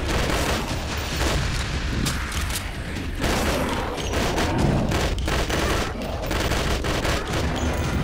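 Rapid gunfire from a gun in the video game Left To Survive plays as a dense, sustained fusillade of close, loud shots with clattering mechanical sounds, with no voices over it.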